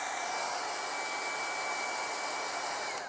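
A hair dryer blows continuously to dry acrylic paint on a canvas, a steady, close, loud whoosh with a faint whine, running alone without speech for the whole stretch.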